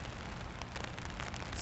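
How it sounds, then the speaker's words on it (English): Steady winter rain pattering on an icy street lined with ice-coated trees, a dense, even hiss of drops that stays uniform and fairly faint throughout, with no voices. "Rain and Ice."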